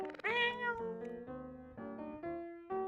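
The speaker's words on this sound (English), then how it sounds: "You gonna come up on stream, kitty, or you just gonna meow down there?" A pet cat meows repeatedly at close range, a string of long, tonal, sliding calls with short pauses between them, loud and clear, with no talking over it.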